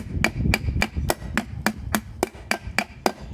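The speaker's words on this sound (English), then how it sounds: "I'll hammer a few more times." A hammer strikes rivets on a Viking shield in a steady series of about eleven sharp, close metallic blows, evenly spaced, with a low background rumble between hits.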